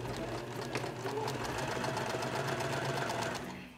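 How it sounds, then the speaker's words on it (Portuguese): A sewing machine running a straight stitch along the side seams of a skirt, a steady fast mechanical whir held at close range for several seconds before it slows at the end, with no talking. "aqui as laterais e vou costurar com o ponto reto da máquina"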